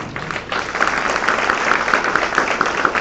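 A church congregation claps together at a Sunday service, a dense, steady rattle of hands with faint rhythmic accents.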